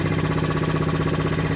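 Small GY6 scooter engine idling steadily after carburetor tuning, a close, even putter with a regular pulsing rhythm and no voices.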